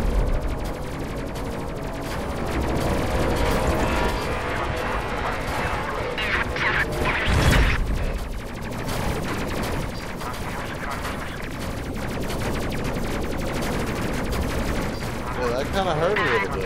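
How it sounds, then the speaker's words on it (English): Heavy ship-mounted gun fire in the Space Crew video game, with dense booming blasts and crashes in a constant battle din, one louder impact near the middle, under ongoing game noise. "that's a big old gun getting ready to shoot at me."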